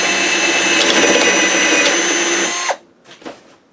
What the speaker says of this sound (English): I'm just going to drill a hole to bring the wires out.